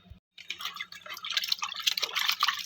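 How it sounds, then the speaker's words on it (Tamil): Cleaned anchovies being rinsed in water by hand, with close splashing, dripping and sloshing that builds steadily after a brief pause at the start. "இதை நல்லா ஒரு 2 தடவை அலசிக்கலாம்."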